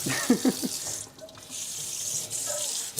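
Hot water runs steadily from a kitchen faucet into a sink for washing dishes, a close, continuous splashing stream with a brief dip partway through.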